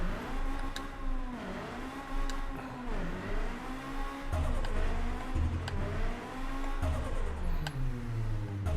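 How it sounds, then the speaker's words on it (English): A high-horsepower car in a drag-strip video game, about 630 wheel horsepower, revs repeatedly, its engine pitch rising and falling in steady waves. The engine is loud and close, with no talk over it. "rev her up."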